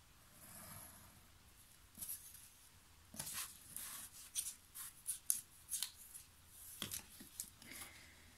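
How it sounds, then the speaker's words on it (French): A cutter blade scores paper along a square for a winter-themed scrapbook album, giving a run of faint, close scratching strokes in short bursts with pauses between them. "je vais mettre mon équerre, je vais prendre ma lame de cutter, je vais tracer mes angles"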